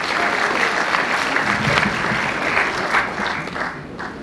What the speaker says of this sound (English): Give yourselves a round of applause for coming out today.